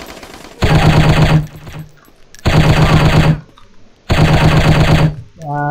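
AK-47 automatic gunfire in the Striker shooting video game: three loud sustained bursts of rapid fire, each under a second long, separated by short pauses, with faint game sounds between.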